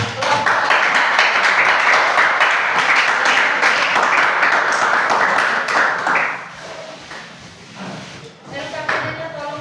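Classroom applause swells into a thick wash of clapping for about six seconds, then quickly tapers off into quieter room shuffling and scattered faint sounds.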